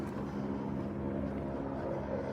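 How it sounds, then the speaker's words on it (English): A steady, low mechanical drone of helicopter rotor and engine noise hangs in the air over Los Angeles, continuous and fairly distant, with no voices. "This helicopter has been here all day."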